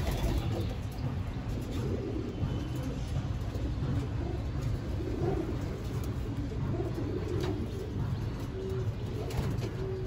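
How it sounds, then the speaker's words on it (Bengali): Stock pigeons cooing steadily in a breeding loft, a dense layered murmur of many birds close by, with occasional chirps over a constant low hum. "এই যে এখানে হচ্ছে ভাইয়ের স্টকের কবুতর গুলা"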